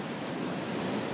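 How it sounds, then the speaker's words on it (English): Steady broadband roar of ocean surf on the California coast, waves rushing and breaking continuously at moderate distance, with no voices. "See, there's a couple of big waves coming."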